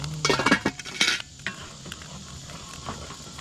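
Metal utensils clink and scrape against a pan while potatoes cook on a boat, a cluster of sharp close clatters early on, then quieter scattered taps over a faint background hiss.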